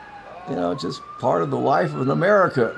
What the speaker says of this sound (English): and you can hear the ambulances and police going off.